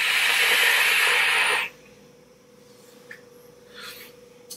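A turbulent vaping draw through a Recoil Rebel RDA with the top two airflow holes open: a loud, rushing airy hiss for about a second and a half that stops abruptly, followed by quiet room tone and a few soft clicks.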